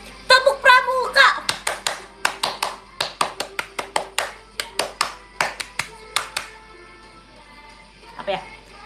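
Tepuk Pramuka scout clapping pattern: a single performer claps a rhythmic sequence of sharp, close hand claps in grouped bursts with short pauses, with brief chanted voice at the start and a short vocal sound at the end.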